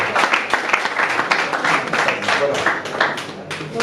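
Audience applause at a Congolese entertainment show, steady clapping sustained for about four seconds, with voices and cheers mixed in over the crowd.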